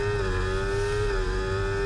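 F1 24 racing game car engine holding a steady high-revving drone on the grid at a race start, a constant tonal whine with a low rumble beneath, loud and without speech.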